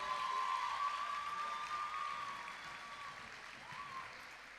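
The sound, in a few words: audience applause for Andrew Forsyth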